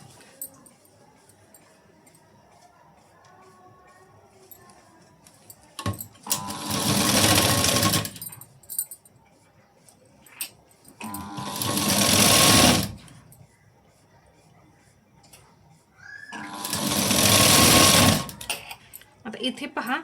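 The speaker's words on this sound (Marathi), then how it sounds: "तर मी शिलाई देऊन घेते आता इथं." A sewing machine stitches tucks into a blouse in three loud, close bursts of rapid whirring, each a few seconds long, with quiet handling between them.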